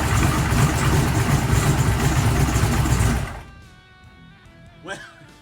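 A starter spun by a 16V lithium battery fires an engine almost instantly, giving a loud sustained churning roar that cuts off abruptly, followed by quieter running and a brief voice.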